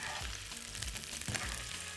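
Vegetables sizzle and crackle in hot ghee, with occasional scraping stirs in the pan, continuous and close.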